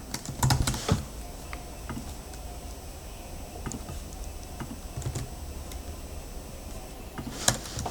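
A computer keyboard is typed on in quick, uneven bursts of close clicks and taps, with short pauses between runs of keystrokes and a louder key strike near the end.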